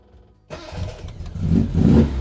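A classic Mini with a 1380cc engine starts up for the first time after a moment of silence. The engine catches abruptly and idles roughly, then swells into a louder rev close to the listener.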